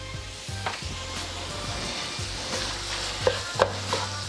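Cooked eggs stirred back into chicken fried rice in a pan: a steady low sizzle under scraping and a few sharp utensil knocks against the pan, no talk.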